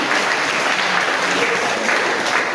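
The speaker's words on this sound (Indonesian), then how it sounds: "Kita ikuti dengan tepuk tangan Bapak Ibu yang terkasih" Dense, continuous applause from a large church congregation at a parish priest handover ceremony, steady and loud for the whole stretch.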